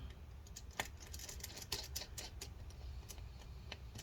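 Faint, sparse clicks and small ticks sound as a screwdriver turns out the last keyboard screw on a Lenovo ThinkPad X1 Extreme laptop, heard close but quiet over a low background hum.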